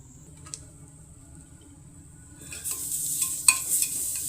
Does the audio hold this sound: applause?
no